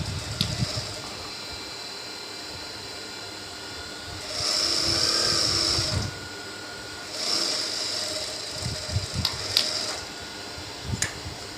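A sewing machine stitches the hem of a baby's trouser in short bursts, a close whirring run of rapid needle strokes that starts and stops, with someone talking quietly between the runs.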